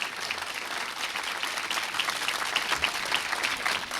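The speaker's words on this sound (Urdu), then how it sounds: "ایک دفعہ ذرا کھل کے زوردار تالیاں" Loud, sustained applause fills a Christmas sermon service, the whole congregation clapping steadily and evenly for the full stretch with no break.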